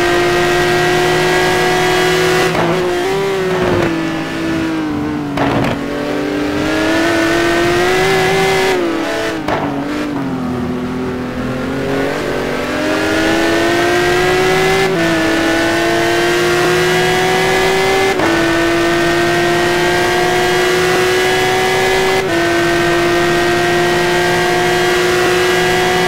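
A Porsche GT1 race car in a sim racing game at Sebring, its engine droning loud and close with steady high revs, pitch rising and dropping through gear shifts, a brief tire squeal.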